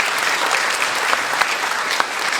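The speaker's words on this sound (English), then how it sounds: "let's give them another round of applause." Audience at a water resources art and poetry celebration applauding poets, a loud, full, continuous burst of many hands clapping with a few sharper claps standing out.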